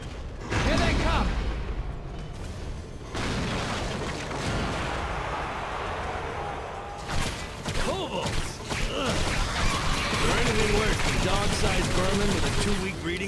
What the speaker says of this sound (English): Machine gun crossbow